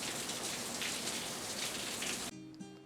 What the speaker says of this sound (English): But it's bringing some good rain down here.